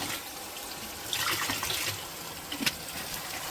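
Liquid phosphate bacteria bio-fertilizer poured out on a banana farm, a short splashing gush of liquid that swells and then tapers, with a brief spatter near the end.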